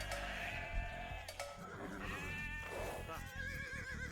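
Sheep in Age of Empires II bleat in wavering, repeated calls over a dense bed of game sound and music, with a voice talking underneath.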